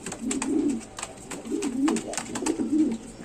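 Lahori Shirazi pigeons coo up close in three slow, repeated rolling calls, clear and alone.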